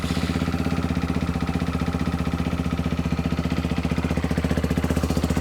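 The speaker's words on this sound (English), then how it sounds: "Let's just start the bike up." Lexmoto RX1 motorcycle engine idling after its oil change, a steady low, even chug with a fast regular pulse throughout, close and fairly loud with no talk.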